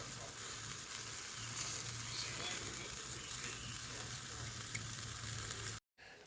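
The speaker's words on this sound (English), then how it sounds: "we have our smokies on the side of the fire" Cheap smokies sausages sizzling at the side of a campfire, a steady close crackle and hiss with a low hum underneath, cutting off abruptly near the end.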